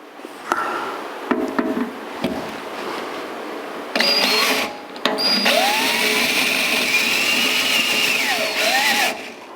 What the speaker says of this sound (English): Now we have to drill this hole out.